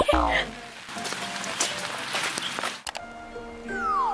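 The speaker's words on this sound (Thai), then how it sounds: "ฝนตกหนักมาก" Steady, heavy tropical rain pours during a trip to Ratchaburi, Thailand, and fills the air with a dense continuous hiss, while voices and other sounds come and go over it.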